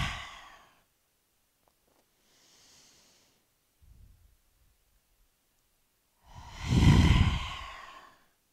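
Deep breaths taken slowly in and out during a guided yoga breathing exercise, one soft exhale early on and a long, loud, close breath near the end, separated by quiet pauses.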